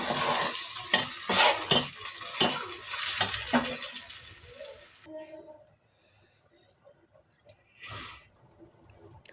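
Boiling hot water is poured into chicken biryani rice in a pot, giving a loud sizzling, bubbling rush for about five seconds. It then fades to quiet simmering with a faint later splash.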